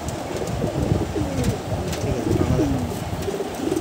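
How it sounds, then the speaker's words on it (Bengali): A male pigeon of a pedigree Kalpora Kaldum Giribaz breed coos in repeated soft, low, rolling calls at close range, against a muffled background of other birds, with no speech. "এদেরই একটা সিঙ্গেল পায়রা, নর পায়রা এটা সম্ভবত"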